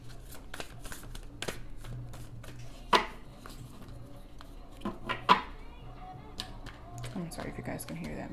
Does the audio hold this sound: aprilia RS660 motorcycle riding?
no